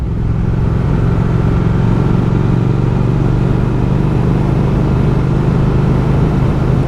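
Triumph Speed Twin 1200 motorcycle engine cruising in a middle gear at low revs, a smooth continuous droning hum heard close and steady throughout with no talk.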